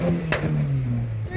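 A car's engine revs at a car meet, a steady deep drone with one sharp crackling pop partway through, loud and close throughout.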